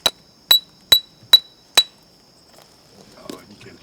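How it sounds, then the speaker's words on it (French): A hammer strikes a piece of calcite rock five times at an even pace, each blow a sharp ringing clink. Soft shuffling and a faint voice follow after the strikes. "On met un coup de marteau pour voir"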